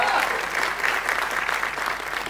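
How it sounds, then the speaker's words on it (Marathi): An audience at a Marathi film trailer launch event claps loudly, with dense applause spread evenly across the whole moment and a faint crowd murmur beneath it. "जोरदार टाळ्या झाल्या पाहिजेत"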